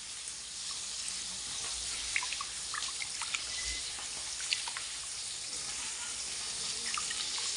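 Running tap water at a sink while something is washed underneath, a steady hissing stream with small splashes and faint clinks, close and continuous with no talking.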